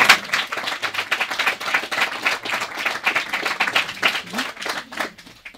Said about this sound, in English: Can we have a round of applause for your tutors as well?